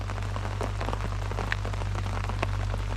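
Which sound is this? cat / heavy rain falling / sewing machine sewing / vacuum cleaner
heavy rain falling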